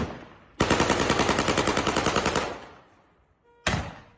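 A man in Bakhtiari clothing fires a gun into the air in Izeh, Iran: a loud, fast automatic burst of about two seconds that trails off, then silence and a second sharp burst.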